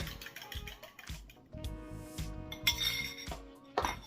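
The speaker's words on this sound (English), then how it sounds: "now we're gonna whisk our eggs and add it into our noodles, cheese, and cream mixture" Whisking eggs in a bowl for mac and cheese, a busy run of close clinks and taps of a whisk against the bowl, steady and fairly quiet, with no talking.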